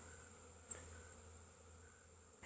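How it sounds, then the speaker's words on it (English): Honeybees active around a hive in autumn, a faint, steady high buzzing drone with a couple of brief closer passes. "bees over here are being pretty active from this hive"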